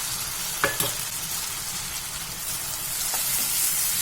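Chopped tomatoes going into a pan of fried onions for a Chettinad chicken curry, giving a steady soft sizzle with a couple of sharp stirring scrapes, close and without talk.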